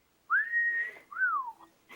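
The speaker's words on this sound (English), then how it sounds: "You know how to whistle, don't you?" Two clear whistled notes, a long rising-then-level tone followed by a shorter falling one, close and distinct in a quiet room.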